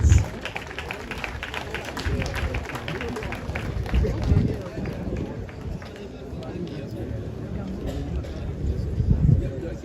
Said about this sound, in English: may we give a round of applause to our DSO recipients